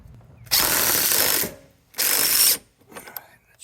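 An adjustment collar on a SeaStar boat steering unit is tightened, two loud bursts of fast ratchet clicking about a second long each, close up, followed by a few quieter scattered clicks.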